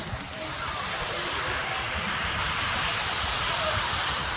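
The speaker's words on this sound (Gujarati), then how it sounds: "દરિયો આવી ગયેલો છે" Sea surf at the beach at Hathab Bangla, a steady, loud wash of waves that roars continuously without a break and with no clear talk on top.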